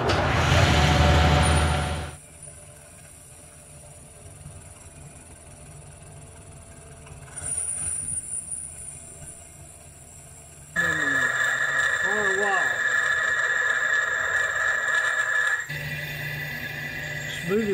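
A metal-cutting machine running in second gear at about 1,050, starting with a loud burst, then a quieter hum; the cut grows louder and steadier later with faint tonal squeals, and someone talks over parts of it.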